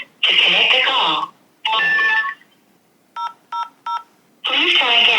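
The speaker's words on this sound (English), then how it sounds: "After the tone, please dial 30 to connect the call." Telephone keypad DTMF tones dialing 30 to connect a call: three short, clear beeps in quick succession, set between stretches of a recorded voice message on a smartphone.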